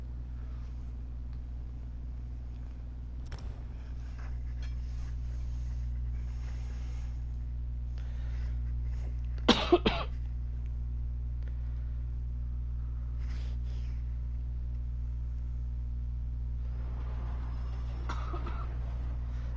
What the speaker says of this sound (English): I do apologize about the cough.